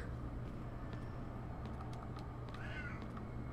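A cat meows faintly in the background of a horror video game session, with a brief rising call near the end over steady low hum and no talk.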